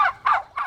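Wild turkeys gobble close by in open land, three quick, loud bursts of rapid rattling calls.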